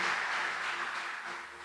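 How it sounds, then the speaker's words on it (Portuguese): Applause rises from a church congregation, a steady wash of clapping heard at moderate level for a short moment, with no voices over it. "Vamos aplaudir o Senhor Jesus"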